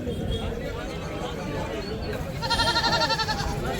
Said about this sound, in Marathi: हे बी बकरेच आहेत साईडला शेळ्या आहेत